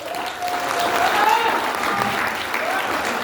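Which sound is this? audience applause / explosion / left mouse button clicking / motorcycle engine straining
audience applause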